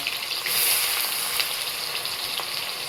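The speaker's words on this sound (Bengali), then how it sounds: "এর মধ্যে তারপর দেওয়া হলো পেঁয়াজ" Onions fry in a pan for a family trip meal near Digha, giving a steady, close, loud hiss and crackle of sizzling oil with faint stirring clinks and no voices.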